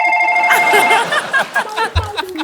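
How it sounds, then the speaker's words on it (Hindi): An electronic ringtone trills loudly at first, then gives way to soft chuckling and voices. "मेरा फोन है। अच्छा अभी बजा है वो लोग।"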